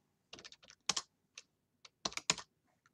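Keystrokes on a keyboard connected to a Raspberry Pi, sharp clicking taps arriving in quick clusters with short pauses between, close and clear, without voices.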